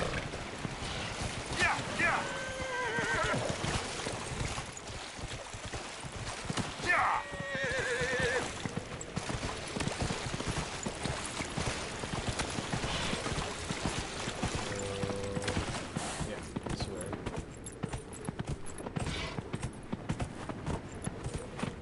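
A horse's hooves clip-clop at a steady trot in the fantasy video game Dragon Age Inquisition, with occasional whinnies, a rushing stream and wind, while a person talks intermittently over the gameplay.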